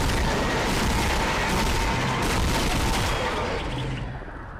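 Sustained automatic gunfire from the Dead Space video game, a loud, dense continuous rattle of rapid shots that holds steady for about four seconds before tapering off at the end.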